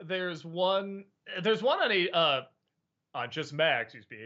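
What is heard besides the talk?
None of the usual background noises is heard.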